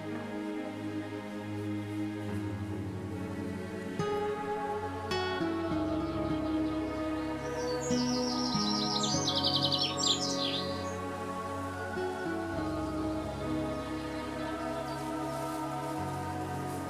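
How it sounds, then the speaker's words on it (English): Birds chirp and tweet along a summer countryside path in Berwickshire, bright calls repeating over a steady low hum, with a busier burst of song in the middle of the stretch. "An abundance of chirping birds complete the summer scene"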